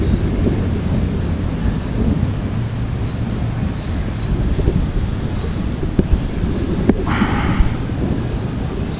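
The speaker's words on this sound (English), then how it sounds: "That was thunder with a bad temper" A deep, rumbling thunderclap rolls on beneath steady rain and wind buffeting the microphone in New York City, with a brighter crack near the end.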